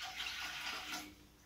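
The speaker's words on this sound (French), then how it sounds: "j'y verse de l'eau" Water pours from a container into a plastic tank that has a tap underneath. The splashing is a steady, rushing stream that fades slightly toward the end, close and fairly quiet, with no speech.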